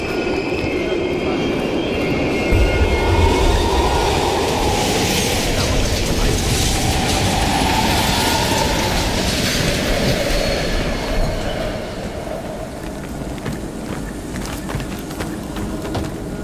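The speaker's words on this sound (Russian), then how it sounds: "поезд замедляется" A train rolls past in the Call of Duty: Black Ops Cold War video game, its loud, continuous rumble and wheel noise holding steady before easing off as it slows down.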